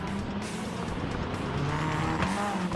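Race car engine from the Gran Turismo 7 video game, a steady loud engine drone running throughout with a brief tire squeal near the end, no talking.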